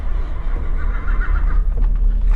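A horse whinnies as a sound effect in a Hindi audio drama, a loud, drawn-out neigh over a steady low rumble of background noise, with no voices.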